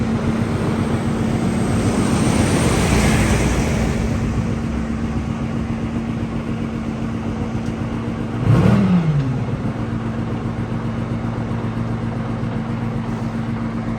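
A military tank engine drones steadily while reversing, with a sustained mechanical hum and a brief louder surge of revving partway through, heard close and without talk.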